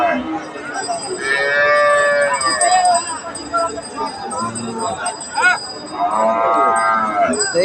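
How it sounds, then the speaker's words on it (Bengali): A Friesian cow moos loudly and close, two long drawn-out lows with bustling background noise and some voices between them, at a cattle market in Badarganj, Rangpur. "এটা কিন্তু ফ্রিজিয়ান জাতের একটা গাভী"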